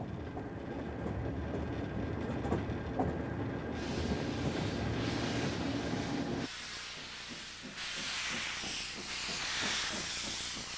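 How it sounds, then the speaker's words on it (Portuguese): A steam locomotive from a large private collection of locomotives rolls along the rails with a steady rumble, then loud rhythmic steam hissing and chuffing bursts take over partway through. "ele só quer dirigir seus próprios trens"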